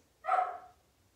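One short, sharp bark from a dog during a yoga session at home, at moderate loudness against a quiet background.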